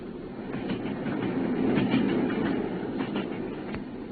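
A Kentish railway train rattling along in an audiobook sound effect, with a steady rumbling roll and faint clickety-clack of wheels over rail joints, moderately loud and without any voice.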